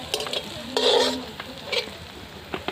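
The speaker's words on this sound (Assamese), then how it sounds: "এতিয়া পিঁয়াজ দিছে, অলপমান ভাজিব লাগিব পিঁয়াজবোৰ" Onions for a meat curry are stirred and fried in a pan, with sizzling and intermittent scraping strokes of a spoon, one longer stir standing out near the middle.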